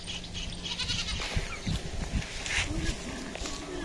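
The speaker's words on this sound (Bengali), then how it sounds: "এই যে বাগানে কচি কচি ঘাসগুলো খেয়ে ফেলছে ছাগল।" A goat grazing on young grass in a village garden, with a few short bleats and animal sounds close by over a windy outdoor background and some distant voices.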